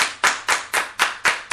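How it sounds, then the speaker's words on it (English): Six sharp, evenly spaced hand claps in a radio studio, close and loud, each a crisp slap with a brief decay, with no talk over them. "I think the whole team should give Amanda a hand clap"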